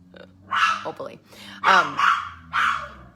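Several indoor dogs bark at someone outside, a close run of loud barks and growly woofs in uneven bursts with short pauses between them.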